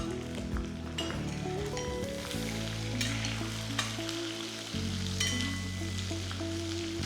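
Sliced onions and garlic fry in hot oil in a pan for a Kerala tomato fry, giving a steady close sizzle with faint clinks of utensils and a low background hum throughout.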